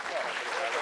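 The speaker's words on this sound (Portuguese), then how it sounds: "fica mais uma salva de palmas para os nossos oradores" A brief, dense burst of audience applause for the speakers at the close of a panel at a national wind-energy forum, sustained clapping that runs through the whole moment.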